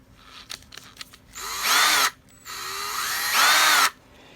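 An electric drill fitted with a step bit cuts arcade button holes in two loud, close bursts, each whining up in pitch as the bit steps wider, after a few faint clicks at the start.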